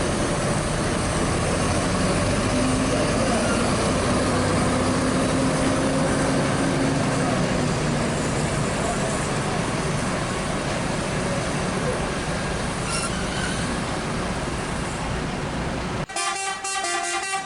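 A KMS intercity bus pulls out of Terminal Bareh Solok amid a loud, continuous roadway roar, with a horn sounding near the end.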